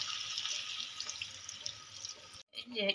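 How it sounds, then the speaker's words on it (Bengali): Water poured into a pan of winter vegetables being cooked, a steady close splashing pour that stops briefly before a few final splashes, with someone speaking softly. "এবার আমি দিয়ে দেবো পরিমাণ মতো জল"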